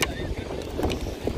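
Strong wind buffets the microphone outdoors, a continuous low roaring rumble that stays loud throughout, with a voice faintly present beneath it.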